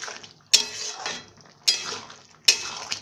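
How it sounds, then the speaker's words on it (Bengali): A spoon stirs soyabean bhuna masala in a metal pan after salt goes in, giving three sharp clinks and scrapes against the pan about a second apart, each trailing off into a soft sizzle. "নুন দিয়ে একটু নেড়ে দেব"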